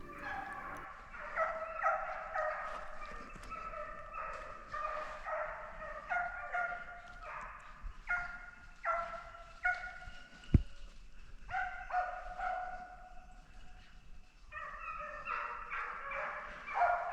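A pack of hunting dogs drives a wild boar during a driven hunt, giving repeated excited barks and yelps in rhythmic bursts at a moderate distance, with one sharp bang partway through.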